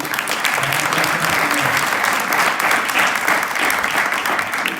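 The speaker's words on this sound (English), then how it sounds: "let's everybody give each one of us a round of applause" An audience at an announcement event applauds, a dense, steady roar of many hands clapping at close range that holds loudly for the whole stretch with no talking.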